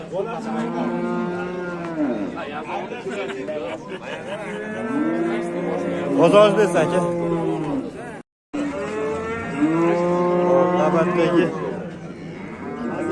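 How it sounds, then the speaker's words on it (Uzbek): A Russian-breed cow at a market gives long, loud, droning moos close by, broken by a brief gap, while someone talks over them. "rossiyskiy sigirimiz"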